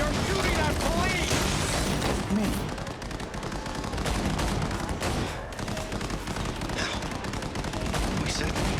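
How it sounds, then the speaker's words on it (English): Sustained rapid gunfire and bursts of automatic weapons aimed at police in the video game Cyberpunk 2077, loud and dense throughout, with game dialogue and voices mixed underneath. "You're shooting at police!"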